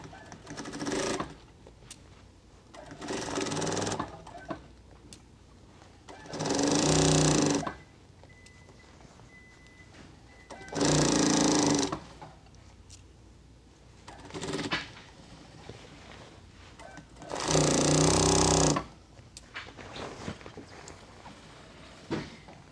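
A sewing machine stitches a half-inch seam on a full-skirted dress being turned into a jumpsuit, running in several bursts of a few seconds each, with quiet pauses between them and no voices.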